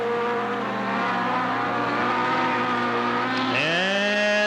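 Race car engines at Riverside Speedway, a dirt oval in Cottage Grove, one running a Honda motor, droning loudly and steadily, then a sharp rising rev near the end as a car accelerates close by.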